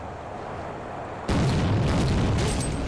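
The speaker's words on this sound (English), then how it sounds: "Yes, I aimed a grenade correctly." A grenade explosion in the video game Soldier of Fortune hits suddenly as a loud, dense blast, then rumbles on as a broad roar that fills the rest of the moment.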